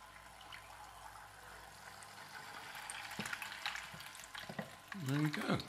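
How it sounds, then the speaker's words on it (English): A fish tank water pump starts up and splashes water, a busy crackling, trickling spatter that builds over several seconds, with a brief voice near the end. "Pump is working fine. In fact, too well, because I'm splashing water everywhere."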